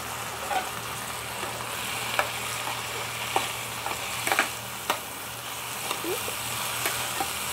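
Sprouted moth beans with a pinch of turmeric and salt fry in a pan, a steady close sizzle with occasional stirring scrapes and soft clinks of the spoon, continuous over a low background hum.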